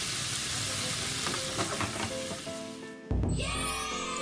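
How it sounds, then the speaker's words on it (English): Hamburger steak sizzling in a pan with cooking wine, a dense steady crackle and stir noise, then a sudden loud hiss and bubbling steam burst as the lid goes on near the end. "put on the lid and steam it"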